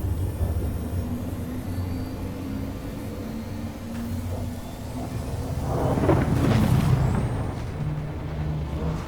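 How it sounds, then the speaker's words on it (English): A Star Citizen spaceship's quantum drive engages with a loud, steady low rumble that swells into a broader roaring whoosh about two-thirds of the way through, then eases slightly, with no talking. "Quantum drive is now on."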